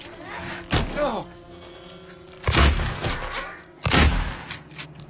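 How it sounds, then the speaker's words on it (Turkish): In Silent Hill 2 Remake, three heavy booming impacts burst out one after another, each a loud broadband blast with a low rumble, with game ambience between them. "O çok büyük patlama oldu"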